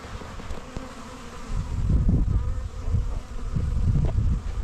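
Bees buzzing close by, drinking water at a raspberry and strawberry watering setup, a steady droning hum that swells louder in waves, with no voices.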